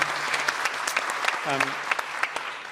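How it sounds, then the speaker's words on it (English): A modest round of applause for Jemima at a community talk, scattered distinct claps from a small group, with a voice speaking briefly over them midway. "round of applause"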